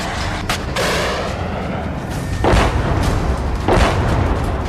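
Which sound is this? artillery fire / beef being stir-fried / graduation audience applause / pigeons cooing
artillery fire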